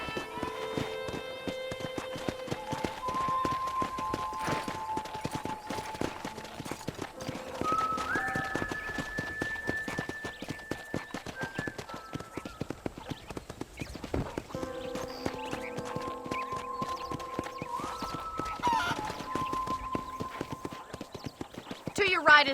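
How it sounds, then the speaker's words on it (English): Steady clip-clop of horse hooves at a trot in Red Dead Redemption, close by, with a short whinny and a voice talking over the rhythmic hoofbeats. "Okay, let's see if you can still ride a horse."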